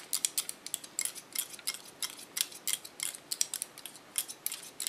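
Scissors snip hair along the neckline of a short asymmetric pixie cut, a quick, close series of crisp metallic clicks in an irregular rhythm with no talking.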